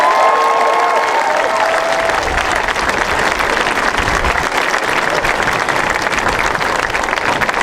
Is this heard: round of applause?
yes